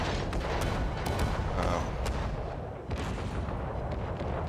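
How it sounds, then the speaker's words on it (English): Warship secondary guns fire in rapid, dense volleys in World of Warships Legends, loud overlapping booms and cracks filling the whole stretch with barely a pause. "These secondary guns are the shit."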